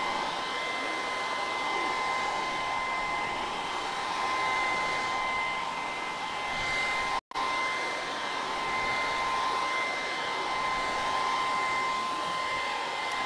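Hair dryer drying a decoupage napkin coated in flat matte sealer on the edge of a wooden crate: a steady close whooshing hum, cut off for an instant midway, then resuming just as before.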